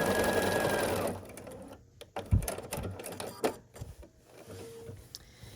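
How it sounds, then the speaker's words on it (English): Close sewing machine stitching quilt block seams, a steady mechanical whir for about a second, then stops, leaving scattered clicks and fabric handling sounds. "I'm sewing them open now, later I'll press them open."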